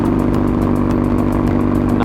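A motorcycle engine runs loud and close on a mountain road, its steady rumble carrying a quick pulsing rhythm throughout, with no voices over it.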